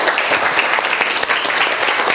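An audience at a Korean book event gives loud, continuous applause to welcome an author, a dense and close wash of clapping that stays even from start to end.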